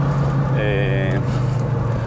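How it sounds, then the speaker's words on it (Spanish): Audi Quattro turbo engine running with a steady, loud low drone heard from inside the car, a brief whistling tone rising over it midway, and someone talking over the noise. "La respuesta del motor es exactamente igual a como yo la recordaba."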